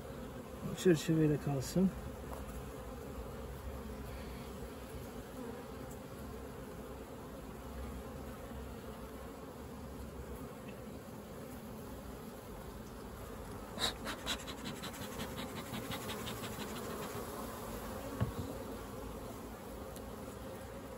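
Honey bees swarm and hum steadily around an opened hive during a colony inspection, a close continuous buzz with brief handling knocks, while someone speaks briefly over it.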